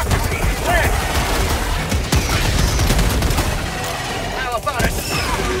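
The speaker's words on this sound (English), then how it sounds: "So I started blasting." Dense, rapid gunfire blasts at bugs in a squad-based shooter video game, loud and nearly continuous, with bursts and booms layered under a busy game soundtrack.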